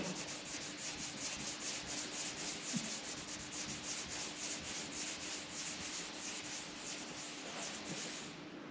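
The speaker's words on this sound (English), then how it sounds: "Just rub it in. It's just oil based, so I'm just rubbing in the oil" Oil-based stain is rubbed by hand into the inside of a Sopwith Camel aircraft panel, a soft, steady, close rubbing that continues without pause under a faint hiss.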